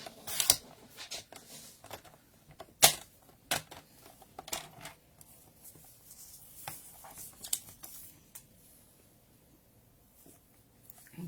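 A machine slices through card stock for a dragonfly Christmas card: sparse, close clicks and short scraping snaps at irregular intervals over quiet background.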